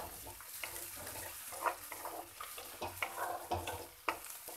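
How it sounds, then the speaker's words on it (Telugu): Spices frying in a pan for a Telugu menthi majjiga pulusu, a steady soft sizzle with light stirring scrapes and small clinks recurring throughout, close and fairly quiet with no talking. "ఇవన్నీ ఒకసారి దోరగా వేయించుకొని బాగా"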